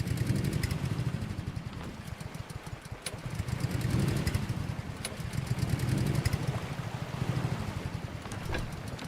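Boat engine chugging in the game Rust, a close, rhythmic mid-pitched motor that swells and eases in waves, with sharp clicks scattered through it.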